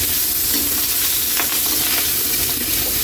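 Milkfish frying in oil in a pan, a loud continuous sizzle and crackle close up, with scattered pops and spatters over a steady hiss and no talking.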